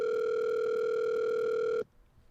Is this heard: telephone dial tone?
yes